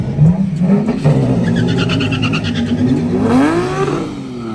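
A Nissan Z with upgraded turbos accelerates hard at a drag racing event, its engine revving loudly and rising in pitch through the gears for several seconds before easing off.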